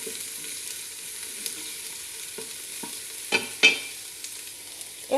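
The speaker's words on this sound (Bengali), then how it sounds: "এর ভিতরে আমি এখন সম্পূর্ণ কাঁচামরিচ, পেঁয়াজ, গাজর সবগুলো দিয়ে নেড়ে চেড়ে নেব" Green chilies, onion and carrot being stir-fried for noodles in a rice cooker, giving a steady low sizzle with a few sharp clinks and scrapes of stirring near the end, no talk.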